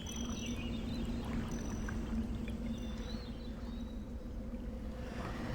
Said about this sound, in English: we can actually fill part of this area up with water